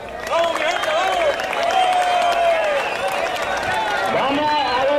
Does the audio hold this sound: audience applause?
yes